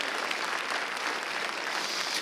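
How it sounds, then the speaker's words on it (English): A congregation claps together during a Sunday evening worship service, producing a dense, steady burst of hand clapping from a crowd with no voices over it. "Give him a hand clap."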